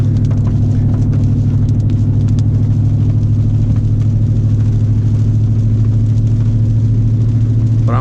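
A car running the OZ Tuning Omega tune drones at a steady pace in a high gear, a loud, even engine rumble heard from inside the cabin with no change in revs.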